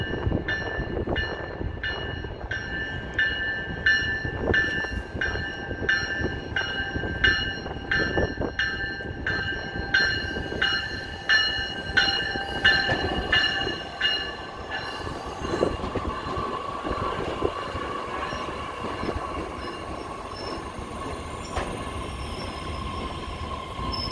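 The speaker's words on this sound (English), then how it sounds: "Oh, the train is coming right in front of me." An elevated train in downtown Chicago rumbles past close by, wheels squealing in high repeated tones over a heavy clatter that fades toward the end.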